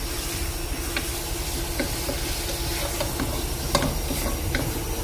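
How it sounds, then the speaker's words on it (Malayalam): Chicken curry made with one kilo of chicken sizzling in a pan, with a continuous hissing fry and occasional scraping clicks as the mix is stirred. "നന്നായി ഒന്ന് ഇളക്കുക"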